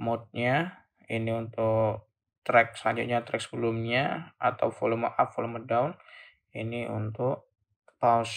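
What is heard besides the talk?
None of the usual background noises is heard.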